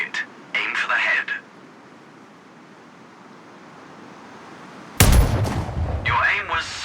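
A single sniper rifle shot fired at a target in Sniper Ghost Warrior Contracts: after a quiet stretch, one sharp, loud crack booms and tails off, with a voice talking before and after.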